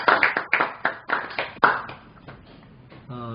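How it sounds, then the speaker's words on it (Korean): A few people clap in a small gathering after a speaker at a publishers' meeting calls for applause; sparse, uneven handclaps close by that fade out within a couple of seconds. "박수 한번 치고 가요."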